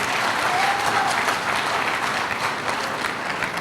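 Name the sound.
audience clapping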